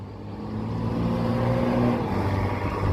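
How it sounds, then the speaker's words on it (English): A loud car drives past close by outdoors at a residential AC installation, its engine rumble swelling and holding steady for about three seconds with no talking. "Sorry, there's a loud car going by."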